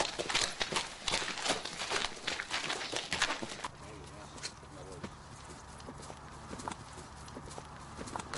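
A horse runs across open countryside alongside greyhounds, its hooves clip-clopping in a quick, steady rhythm that is loud at first, then fades back under a low, continuous background.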